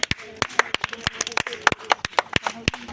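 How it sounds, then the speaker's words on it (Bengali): Audience at a village game contest clapping in scattered, uneven bursts of sharp claps, mixed with someone talking over them. "সকলে জোরে হাততালি।"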